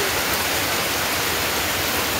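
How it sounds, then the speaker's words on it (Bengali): Heavy rain pours down in a dense, steady roar that stays constant and loud throughout, with no talking. "জোর সোর বৃষ্টি, আমরা বৃষ্টিতে আটকে গেছি"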